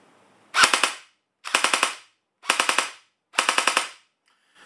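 G&G GR15 Raider airsoft rifle with pneumatic blowback fires four quick bursts of about four to five sharp cracks each, close and crisp, separated by short silences.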